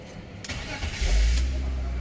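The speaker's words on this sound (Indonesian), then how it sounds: "Kita dengerin nih suara mesin straight six ala" A 2000 BMW X5 3.0i (E53) straight-six cranks briefly and then catches, settling into a steady, loud low rumble at idle, recorded close, with no talk over it.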